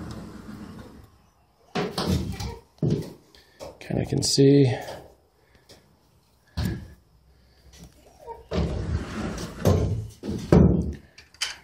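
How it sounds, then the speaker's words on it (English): Sliding doors between the sections of a new racing pigeon loft rattle, thunk and scrape in several short bursts, with someone talking between and over them. "so between the sections, we'll have sliding doors"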